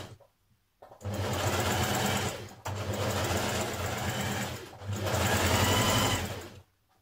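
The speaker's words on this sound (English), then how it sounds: "we're going to sew a line of stitching going around the bottom of the sleeve" A sewing machine runs a gathering line of stitching around the bottom of a sleeve for a Simplicity 8418 bomber jacket, in three steady close bursts separated by brief pauses.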